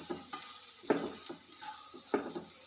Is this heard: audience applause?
no